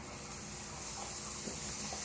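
A quiet, steady hiss of butter sizzling in a pan, even and continuous with faint crackles, no voices.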